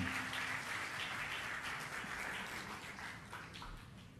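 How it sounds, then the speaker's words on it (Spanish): Applause from a conference audience at a Spanish-language entrepreneurs' event, CADE Emprendedores 2012, for the host who led the session: steady, fairly faint clapping that holds for several seconds and eases slightly toward the end. "Y un aplauso para Daniel también, por favor,"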